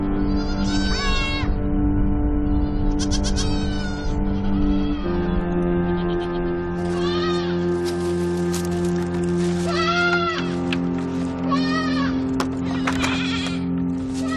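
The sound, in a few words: goats bleating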